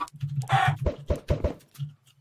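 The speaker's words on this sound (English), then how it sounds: "I want to kill these chickens." Chickens in the video game Minecraft cluck several times in a quick, close, fairly quiet sequence of short clipped notes.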